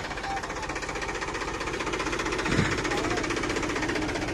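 A Powertrac Euro 47 tractor's engine labors steadily under heavy load while hauling a fully loaded trailer stuck in soil, a continuous rough rumble with a brief surge in power partway through.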